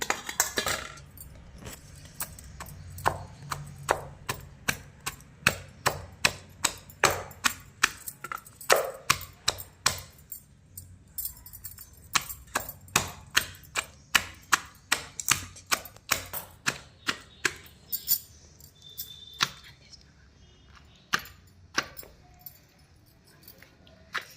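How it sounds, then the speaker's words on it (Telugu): Raw mango pieces are pounded for mango chutney in a steady series of sharp, close thuds, several dozen strikes at a regular rhythm with brief pauses, with no talking. "ఇప్పుడు మామిడికాయ ముక్కలు వేసుకొని దంచుకోవాలి"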